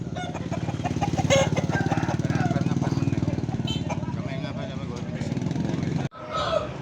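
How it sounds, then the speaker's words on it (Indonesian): A grey chicken at a poultry market clucks repeatedly in quick, rhythmic bursts, close and fairly loud, while people talk nearby. "Bawa ayam warna kelabu api."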